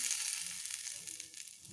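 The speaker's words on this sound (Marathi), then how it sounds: "याला आपण जिरेची फोडणी टाकू थोडीशी" Faint, steady sizzling of cumin seeds crackling in hot oil, a soft hiss with tiny pops throughout.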